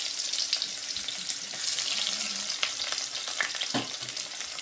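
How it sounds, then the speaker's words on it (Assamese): Sliced onions with dried red chilies and five-spice seeds sizzling steadily in a hot pan, a constant close crackling hiss with occasional pops and stirring scrapes. "এতিয়া পিঁয়াজটো অলপ সিজিব লাগিব"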